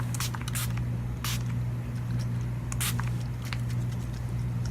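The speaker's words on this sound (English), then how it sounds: "So I'm just going to be finishing off my face with the Ulta Beauty Matte Setting Spray." Ulta Beauty Matte Setting Spray misted onto a face: several short, sharp hissing spritzes at irregular intervals over a steady low background hum.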